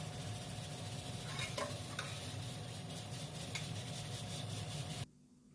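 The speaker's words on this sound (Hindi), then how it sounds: "भूनना है इसको, इतना कि ऑयल नज़र आना शुरू हो जाए मसालों में" Finely chopped onion and tomato masala frying in oil in a pan, making a steady continuous sizzle with occasional stirring scrapes, close and unbroken until it stops abruptly near the end.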